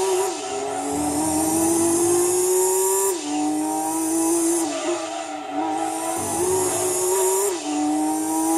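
A race car in the Gran Turismo 2 driving game runs with a continuous high engine whine that rises and drops with gear shifts, under steady tire noise, loud and unbroken.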